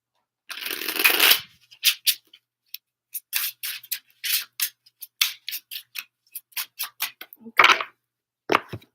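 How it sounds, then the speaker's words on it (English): Tarot cards are shuffled by hand in a quiet room: a longer riffle followed by a string of quick, crisp snaps and flutters in an irregular rhythm, close and clear with no talk. "I'm going to shuffle these up a few times."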